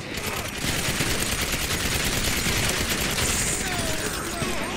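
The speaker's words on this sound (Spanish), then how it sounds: "Me están disparando, weón." Dense, continuous rapid gunfire in GTA 5 Online, loud and sustained like a fusillade of automatic weapons aimed at the player, with a voice talking over the shooting.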